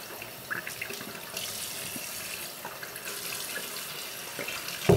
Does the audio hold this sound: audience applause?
no